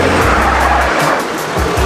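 A truck in the Central African Republic crosses a trench bridged with wood. Loud, close engine roar with rough rumbling and a brief squealing scrape, steady throughout the short burst.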